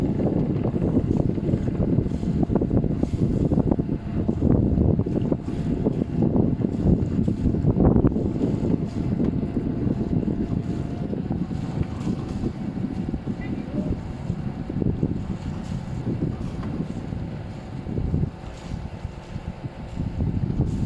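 Wind buffets a small fishing boat, a rough, gusting roar on the microphone that runs throughout, with muffled voices talking underneath.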